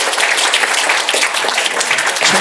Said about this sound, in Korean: 재도전에 나오신 그 두 해에 걸친 그 열정을 높이 평가하면서 박수 보내드리겠습니다.